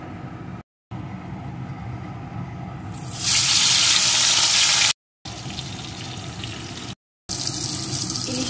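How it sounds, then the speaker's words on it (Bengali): Salted, turmeric-coated hilsa fish frying in hot mustard oil in a wok, a steady crackling sizzle that suddenly swells louder as pieces go in, with brief silent cuts between stretches. "এখন আমি প্রথমে লবণ হলুদ মাখানো ইলিশ মাছগুলোকে ভেজে নেব"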